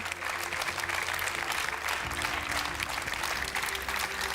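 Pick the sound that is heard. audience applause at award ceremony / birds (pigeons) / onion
audience applause at award ceremony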